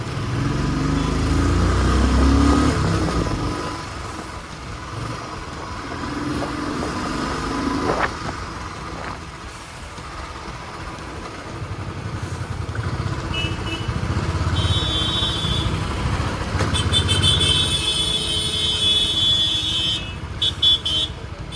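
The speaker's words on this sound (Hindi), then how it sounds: "गाइस आप देख ही सकते हो मतलब कितना ज़्यादा ट्रैफिक है।" Busy road traffic around a Royal Enfield Bullet motorcycle in the afternoon school rush, with a steady engine rumble, passing vehicles and a few high horn toots near the end.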